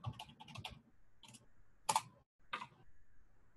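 Scattered bursts of typing on a computer keyboard, close and fairly quiet, with short clusters of keystrokes separated by pauses.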